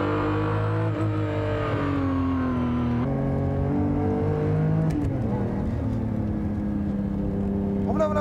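Racing cars at Suzuka in a 2000 supercar battle, engines droning loudly as they accelerate out of turn two into the S-curves, pitch rising and shifting, with commentary over the engine noise.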